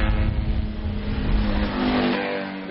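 A race car engine at the Spa-Francorchamps circuit, built on a reworked stock motor, roars loudly and close, holding a strained rev with small surges before easing off at the end.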